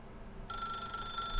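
A telephone in The Stanley Parable video game starts ringing partway through, its bright electronic ring holding steady over a faint background hum.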